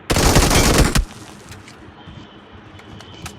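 Automatic gunfire in the mobile shooter BGMI: a loud, rapid burst lasting about a second, then quieter scattered sounds and a few faint clicks.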